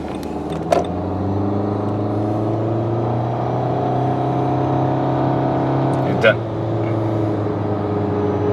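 A 2013 Nissan Altima SV accelerating with a sluggish transmission, giving a steady droning engine hum that holds one pitch for long stretches, heard from inside the cabin with a couple of brief clicks.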